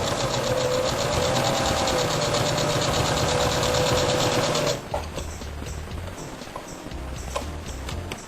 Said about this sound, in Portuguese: E agora nós vamos fazer uma costura bem na beiradinha, com cerca de meio centímetro, em toda a volta da pétala